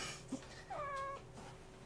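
Peanut Butter, a pet cat, gives a short meow midway, fairly close and moderately loud over a faint room hum, with a small thump before it and a sharp bump at the end.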